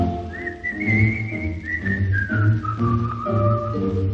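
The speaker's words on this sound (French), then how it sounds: "Tandis que flotte son bouchon, il sifflote une chanson." A man whistles a wandering melody, steady and close, over a soft musical accompaniment.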